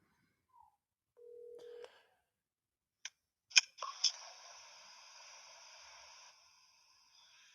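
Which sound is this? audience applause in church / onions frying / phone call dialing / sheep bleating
phone call dialing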